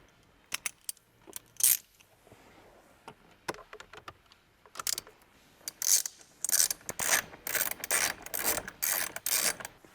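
Torx bolts being tightened on a Toyota Tacoma steering wheel airbag: irregular bursts of ratcheting clicks and metallic clinks, sparse at first and then quicker and denser, close up with no talk.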